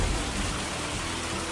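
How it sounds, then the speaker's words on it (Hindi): Heavy cartoon rain pours in a steady, dense hiss with a low rumbling undertone, loud and continuous with no pauses or voices. "बारिश इतनी तेज हो रही थी कि रुकने का नाम ही नहीं ले रही थी।"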